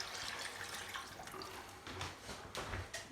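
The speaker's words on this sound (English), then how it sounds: "So I'm just going to pop it in here and we'll just deglaze that pan." Liquid pours into a hot pan of slow-cooked beef cheek to deglaze it, giving a soft, continuous splashing and bubbling hiss with a few faint clinks.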